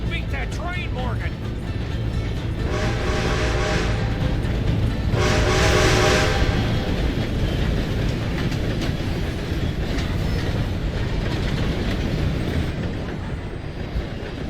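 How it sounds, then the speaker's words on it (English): Steam-era train in Red Dead Redemption 2 rumbling past close by with rhythmic clickety-clack of wheels, a loud whistle blast and metallic squeals, heavy and continuous for its whole length, with voices shouting over it. "Gotta beat that train, Morgan!"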